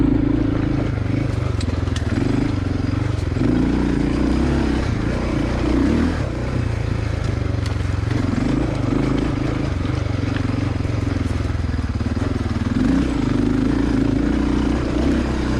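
Dual sport motorcycle ridden over rough off-road terrain, its engine droning steadily and loudly throughout with rising and falling revs and some clatter, close to the microphone.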